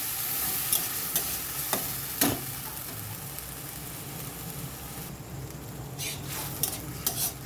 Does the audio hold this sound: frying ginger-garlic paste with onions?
yes